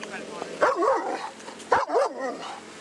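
A dog barks in two loud close bursts about a second apart, a gap between them, amid a tense police arrest scene with background noise.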